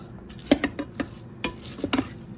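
Pork chops are stirred around inside a rice cooker pot, a quick series of close, light utensil clinks and scrapes against the pot with a faint sizzle beneath.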